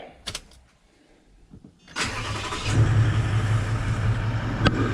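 A car idles with a steady low engine hum during a brake, transmission and transfer case service, starting after two quiet seconds with a brief click and rising slightly in level, no talking.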